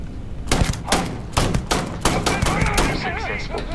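Gunshots at a pirate in the video game Starfield crack out in a rapid series of sharp, loud reports, roughly six shots spaced about half a second apart, followed by fainter game sounds.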